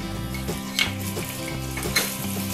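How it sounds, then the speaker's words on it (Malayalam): A hot mustard-seed tempering is tipped into a pot of Kerala puli inji ginger curry and sizzles up in a close, frothy hiss with a couple of sharp pops, with stirring and soft pot sounds over background music. "ഇനി നമ്മുടെ ഇഞ്ചിക്കറിയിലോട്ട് ഈ കടുക് വറുത്ത കൂട്ടങ്ങ് ചേർക്കുക."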